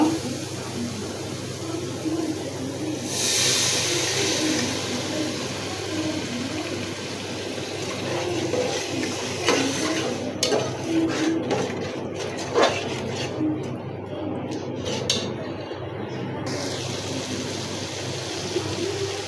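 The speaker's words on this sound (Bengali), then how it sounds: "পানি দিয়ে দেব।" Water poured into a pot of cooking chicken, a steady trickling, splashing stream at close range that runs for most of the stretch, with a few clinks of the pot near the end.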